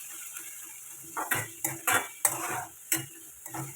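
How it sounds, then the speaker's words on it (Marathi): Onion sautéed in a pan until reddish: a soft sizzle under about seven rhythmic, close scraping stirs of a spatula against the pan. "चला कांदा छानपैकी लालसर परतून घेते."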